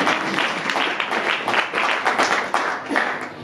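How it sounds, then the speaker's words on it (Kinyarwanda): A church congregation at a Kampala gathering claps together in a dense, continuous round of applause that stays loud and even throughout, with a faint murmur of voices mixed in. "Reka tumukubita amashyi izina rya Yesu"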